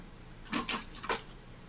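A bunch of keys jangles close by in a few quick metallic shakes, bright and brief, then falls quiet.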